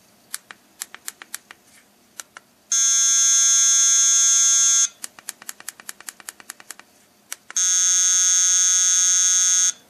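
Easypet 180R remote dog training collar sounding bursts of clicking beeps alternating with long sustained high-pitched tones, in two matching cycles, clear and close with no talking.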